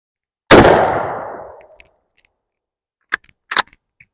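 A single loud 7mm Mauser rifle shot fired outdoors, a sharp crack with a booming tail that fades over about a second, followed by a few faint metallic clinks.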